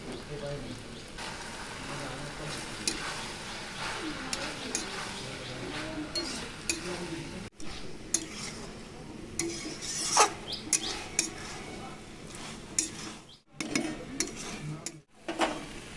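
Maida flour stirred with a little water into a batter, soft repeated scraping and clinks of a spoon against a bowl, with speech over parts of it and brief quiet gaps.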